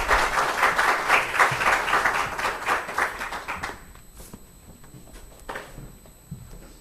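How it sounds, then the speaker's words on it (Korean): A church congregation applauds a missionary coming forward to preach. The clapping is loud and crowded, then thins out and fades halfway through, leaving scattered footsteps and light taps in a quieter room. "나오실 때 박수로 맞이해 주시면 감사하겠습니다."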